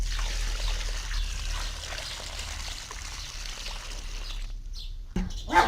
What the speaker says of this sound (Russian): Проливаю водичкой.